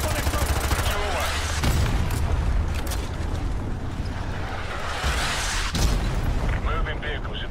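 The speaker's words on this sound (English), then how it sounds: "Roger, firing javelin, danger close." Javelin missile fire and explosions in Call of Duty Modern Warfare 2 make a dense, continuous roar of blasts and rumbling booms, loud and close, with distant gunfire crackling and radio voices under the din.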